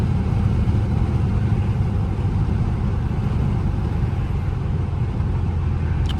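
A twin-turbo 5.7 Dodge Charger engine idles with a steady, loud low rumble that holds evenly throughout, with no voices.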